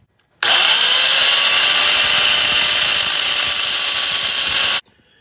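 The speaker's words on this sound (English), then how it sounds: "So I'm gonna be grinding right here and right here." An angle grinder runs continuously for about four seconds on the knotter assembly of a New Holland 326 square baler, a loud, steady high-pitched whine that starts and stops abruptly.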